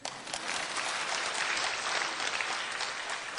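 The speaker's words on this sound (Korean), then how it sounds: "애 낳은 여자를 위해서 박수 좀 쳐줘." Sustained audience applause at a church revival lecture, a dense, steady wash of many hands clapping, loud and even throughout with no voices over it.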